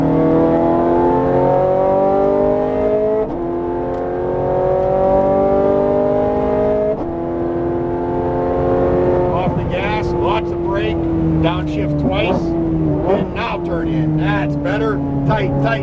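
A Ferrari 430 Scuderia screams on a race track, its loud engine note rising through the revs in repeated pulls with gear shifts between them while an instructor talks over it.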